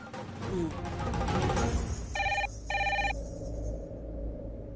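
A telephone rings in a Hindi TV serial scene after a number is dialled: two short trilling rings in quick succession, loud over a busy mix of background sound and music.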